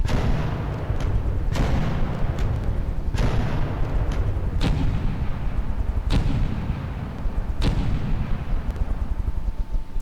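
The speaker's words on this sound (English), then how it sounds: "we can give it a burst fire test now. See how quickly this fires with the reload." Burst fire from a gun in the game From The Depths: a steady rumbling roar punctuated by six evenly spaced sharp booming shots, loud and close, with no talk.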